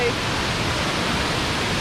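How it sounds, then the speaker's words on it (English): A waterfall on a rainforest circuit near Millaa Millaa in Queensland rushes as a steady, dense broadband roar, close and constant for the whole short stretch. "but it's still a nice waterfall"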